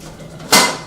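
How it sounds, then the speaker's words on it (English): Cooked broccoli poured out to drain in a kitchen sink, one short loud splash and rush of water lasting under half a second. "so let me drain this broccoli real quick"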